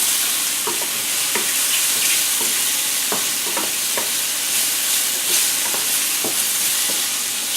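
Mushrooms fry in olive oil in a pan, with a loud, continuous sizzle close up and scattered light taps and stirs of a utensil through it.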